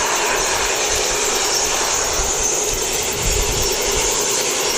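A two-year-old ATR turboprop airliner departing Wellington Airport for Christchurch, a loud, continuous broadband engine roar with low rumble holding steady throughout, no voices.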